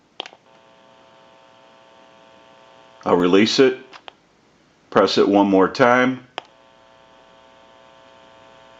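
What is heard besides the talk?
electrical hum from payphone amplifier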